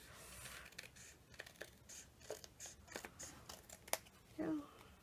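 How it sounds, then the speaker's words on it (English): Quick snips of scissors trimming the edge of an embossed paper greeting card, a series of faint close clicks and cuts ending in a brief paper rustle, with no talk over them. "I'm just going to trim it real quick"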